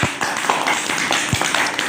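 A group of young children in a school classroom claps together, producing a brisk run of close, uneven hand claps.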